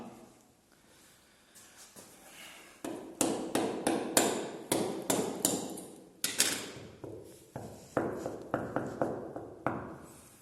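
Repeated knocking taps on loose long, narrow tile, a steady series of sharp hollow raps, close and fairly loud, with no talking.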